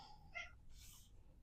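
A cat gives a short, quiet meow with a rising then falling tone, followed by a faint breathy trailing sound, alone and slightly distant.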